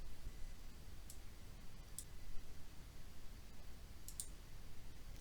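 A few faint, sharp computer mouse clicks during InDesign layout work, about three isolated clicks over a steady low hiss, with no talk.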